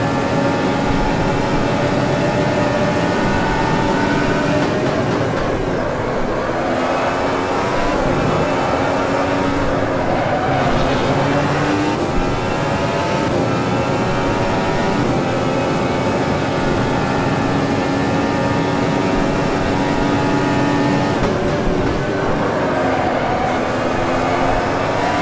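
Formula 1 car from the 2017 season racing at Monza in Automobilista, a loud high-pitched engine whine rising and falling through gear changes and throttle lifts, continuous and close.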